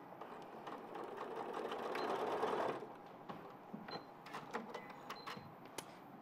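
Sewing machine stitching a folded fabric edge, a soft continuous whirring run that stops after about three seconds, followed by quiet clicks and handling noises.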